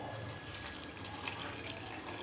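Water being poured onto grated coconut for grinding into coconut milk, a soft, continuous trickling pour heard faintly and close up.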